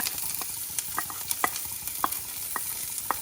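Onions, green chilli and curry leaves sauté in a pan after mustard seeds and cumin have popped, a soft continuous sizzle broken by scattered light spatula scrapes and taps, fairly quiet and close.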